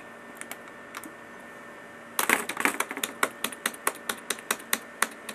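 Rapid clicking of a computer keyboard being typed on during a NAS upgrade, starting after a quiet hum and continuing as a steady run of close, sharp keystrokes with no voices.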